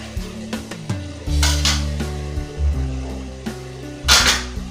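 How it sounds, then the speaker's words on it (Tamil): Tomatoes sautéing in a pan for chicken pepper gravy, with a soft sizzle under close stirring scrapes and a few sharp clanks of a utensil against the pan. "தக்காளி பார்த்தீங்கன்னா நல்லா வதங்கிடுச்சு."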